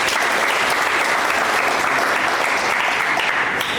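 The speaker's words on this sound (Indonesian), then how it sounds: "Tepuk tangan kita semua." Steady, dense applause from an audience at a university student-activity-unit inauguration ceremony, a broad continuous clapping wash that holds evenly for the whole stretch with no speech over it.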